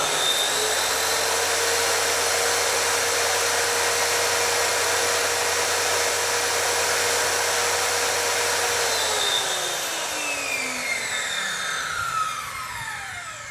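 A DCK KMY02-185 electric circular saw runs at a loud, steady high-pitched whine at about 5,400 RPM, then winds down as the motor spins to a stop near the end.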